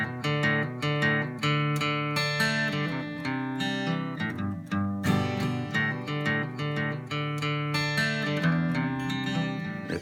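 Electric guitar plays the second riff of a song at a slowed tempo, a steady run of sustained, ringing notes with no voices over it.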